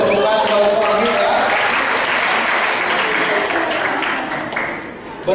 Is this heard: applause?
yes